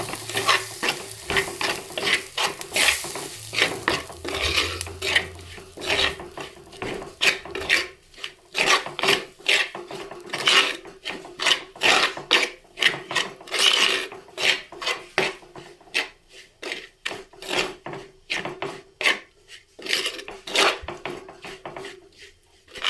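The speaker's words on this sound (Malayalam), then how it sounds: "നന്നായിട്ട് ഇളക്കി കൊടുക്കാം" Curry ingredients stirred in a pot on the stove, with steady scraping and rasping strokes from the spoon against the pot and a sizzle underneath, loud, close and continuous for the whole stretch.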